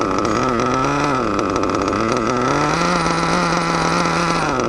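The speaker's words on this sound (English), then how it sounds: "It's my first race engine that I break in." A Reedy 121-VR nitro race engine in an RC8T buggy runs through its first break-in, revving with a steady, loud, buzzy drone whose pitch rises and falls slowly across the whole stretch.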